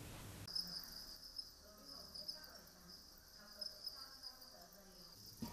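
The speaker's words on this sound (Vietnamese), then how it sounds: "nghe tiếng dế râm ran" Crickets at a cricket farm near Da Lat give a steady, dense high chirring that runs continuously for several seconds, close and fairly loud, with faint background noise.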